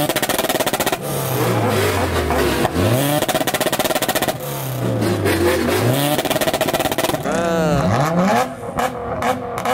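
An Acura RSX engine revs hard through a raspy exhaust in repeated rising and falling pulls, loud and close. A final burst carries popping and crackle as it drops off, and voices can be heard faintly in the background.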